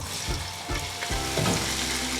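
Oil sizzles and crackles steadily in a pan, with a few dull thumps and a burst of louder frying as chopped onions are stirred in.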